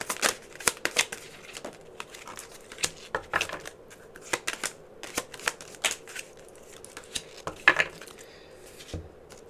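Tarot cards being shuffled and drawn for a pick-a-card love reading, with sharp, irregular flicks and slaps of the deck spread across the moment, fairly close and with no talking.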